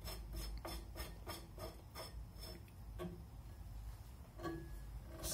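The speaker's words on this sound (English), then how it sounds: "Then you're going to take your compensator. You're just going to screw that on" A compensator screwed by hand onto rifle muzzle threads, a quick run of close, soft scraping ticks that slows and trails off into a few scattered scrapes.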